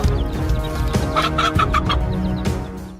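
A mother hen guarding her chicks gives a quick run of sharp clucks close by, set over a busy outdoor background of other farmyard bird noise, with no talking.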